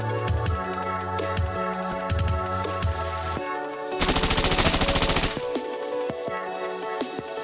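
Rapid automatic gunfire rattles from a retro video game character's shooting animation, a dense burst of about a second amid bright chiptune-style game tones.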